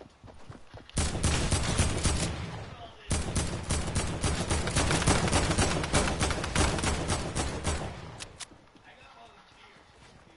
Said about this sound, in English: Somebody's using a cannon.